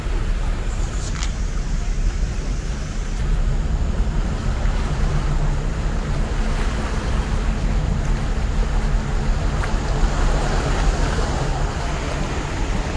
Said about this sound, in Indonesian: perahu longboat ya, yang datang dari arah Ulu